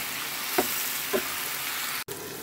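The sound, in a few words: frying onions and chilies in a pan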